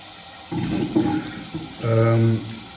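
Hot running water rinsing a straight razor's shank, tail and scales at a bathroom sink, a steady splashing flow in two bursts with a short pause between, close and fairly loud.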